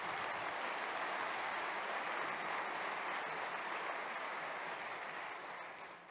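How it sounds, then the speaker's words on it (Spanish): A talk audience applauds after a call to honour farm workers, a steady dense wash of clapping that stays loud throughout and tapers slightly at the end, with no speech over it. "Así que un aplauso para todos ellos."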